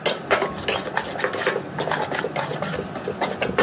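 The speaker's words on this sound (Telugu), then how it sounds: "దీన్ని మొత్తాన్ని కలుపుకుందాం చక్కగా పట్టేటట్టు" Mushroom masala curry with chili powder being stirred in a pan: a spoon scrapes and clinks against the metal in quick, rhythmic strokes, close up, with no voices.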